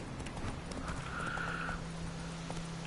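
Roach, the horse in The Witcher 3, galloping with a steady rapid patter of hooves under a low constant hum, plus a brief whinny-like tone in the middle.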